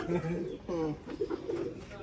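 Soft, throaty coos from pigeons in a pigeon loft repeat in short rolling phrases close by, with a person speaking quietly underneath.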